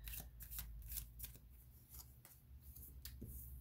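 Tarot cards riffle and slide against each other in steady bursts of crisp shuffling, close and fairly quiet, with no voice over it.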